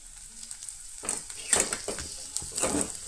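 Sabudana khichdi sizzles softly in a pan on the gas stove, with a few scraping stirs and light clinks of the spoon against the metal.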